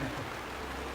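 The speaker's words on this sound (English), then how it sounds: "It's loud enough, isn't it? The rain." Steady rain on a live stream, a dense, even hiss of falling drops that fills the whole second with no breaks and no voices over it.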